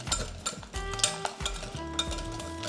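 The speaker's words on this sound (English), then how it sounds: "And all you do is whisk this together." Crab cake sauce seasoned with salt and pepper gets whisked in a bowl, quick rhythmic clinks and taps of the whisk against the dish, close and moderately loud, with no talking.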